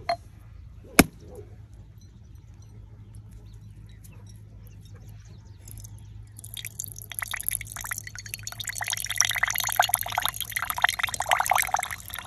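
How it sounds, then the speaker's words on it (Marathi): Water pours from a freshly cracked coconut, a faint trickling splash that starts after a sharp crack and builds into a steady close pouring patter toward the end. "आता ह्याच्यात पाणी घेऊ मित्रांनो नारळ फोडून"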